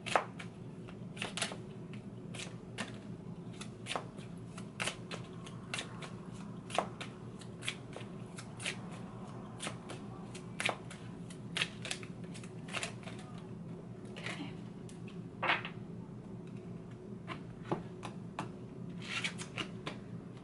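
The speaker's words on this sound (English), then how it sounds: "just gonna start shuffling." Tarot cards being shuffled over and over, a steady run of crisp riffling clicks and snaps at close range, with a low hum underneath and no talking.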